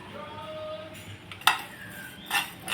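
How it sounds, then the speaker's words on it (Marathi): Coriander seeds are dry roasted in a pan, with a few metallic clinks and scrapes from stirring over a quiet background and a faint high whine. "धणे घेतो आपण, 3 चमचे घेतलेत मी ते, याला आपण आपल्याला भाजून घ्यायचं आहे।"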